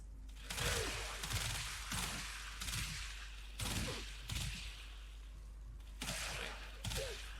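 Gunfire from a hybrid gun build in the video game Warframe, a series of bursts of rapid shots with heavy low thumps, separated by short pauses and heard with no talk over them.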